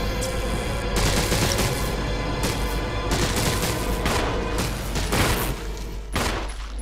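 Rapid gunfire in the video game Resident Evil Remake, a dense loud barrage of shots and booms running almost continuously, with brief gaps between volleys and no voices.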